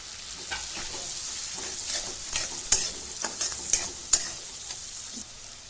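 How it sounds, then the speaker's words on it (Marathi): Onion fries in butter with crackled cumin and mustard seeds in a pressure cooker for pav bhaji: a loud sizzling hiss broken by repeated sharp stirring clacks and scrapes of a utensil against the pot. "जिरं चांगलं तडतडलं की कांदा घालायचा"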